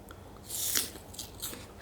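A crisp, crunchy bite into an apple close to the mic, then a few softer crunches as the piece is chewed.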